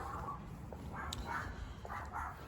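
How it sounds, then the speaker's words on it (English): A small yappy dog barks in a few short bursts at a distance, sharp yips spaced out over steady background noise in a garage or workshop. "God, I hate yappy dogs."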